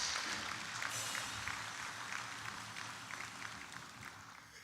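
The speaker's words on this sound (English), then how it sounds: "Chief of Defense Staff, General Lucky Irabo, deserves a much louder round of applause" Applause from an audience at a police election security workshop comes as steady, fairly faint clapping from a room full of people, holding even throughout without voices.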